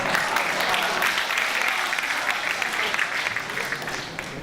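An audience at a humorous Urdu poetry reading breaks into steady, sustained applause, a dense patter of clapping that holds fairly even throughout before thinning slightly toward the end.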